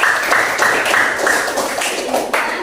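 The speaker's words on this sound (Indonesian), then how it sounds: "Tepuk tangan lagi untuk kelompok 4." Classroom applause for a student group in a teacher-training lesson, a loud, steady round of many hands clapping in rhythmic bursts for a couple of seconds, with no talk over it.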